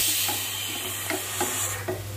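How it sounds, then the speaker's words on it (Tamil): Roasted coconut mixture is stirred in a pan with soft repeated scraping strokes over a low background sizzle, close by with a steady hum underneath. "தேங்காய் சேர்த்து இதை வந்து நல்லா கலந்து விட்டுக்கலாம்"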